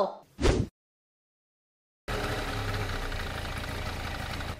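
A scooter engine in a cartoon starts up after a short burst and a pause, then settles into a steady, close mid-pitched running drone that continues to the end.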